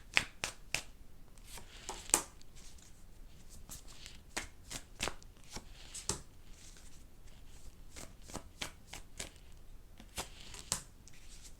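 Tarot cards shuffled by hand: quick, crisp riffling snaps repeat steadily, close and fairly quiet, with no one talking.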